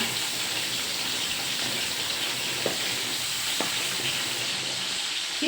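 Mackerel frying in a pan for a Thai shrimp-paste chili dip meal, giving a steady close hiss of oil with a few faint pops, no talking.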